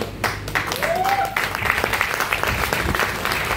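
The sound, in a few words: audience clapping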